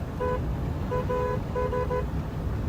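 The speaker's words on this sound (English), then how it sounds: "Give her a little beep there. She's probably wondering, who the heck is that honking at me?" A briquette truck's horn giving a few short honks, two or three quick toots in a row over the steady rumble of the moving truck and road noise.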